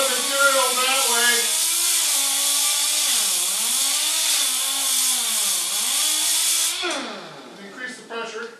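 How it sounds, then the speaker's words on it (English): A power sander grinds material off a metal sculpture while the surface hair is shaped, making a loud continuous whine that wavers in pitch with the changing pressure and then winds down near the end. "switch this over here, then it becomes a regular sander. Then take off a lot of material that way."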